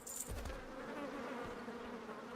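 A swarm of bees buzzes in World of Warcraft, a close, steady droning hum that runs the whole time with a short higher sting of sound at the start.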